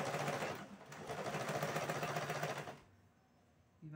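Sewing machine stitching bias binding onto a fabric placemat cover, running in a steady fast whirring burst for nearly three seconds, briefly pausing once, then stopping to near silence before a short restart.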